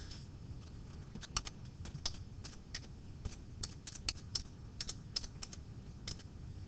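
Typing on a computer keyboard, a steady run of quiet, light key clicks with occasional louder taps, close by over a low background hum, with no talking.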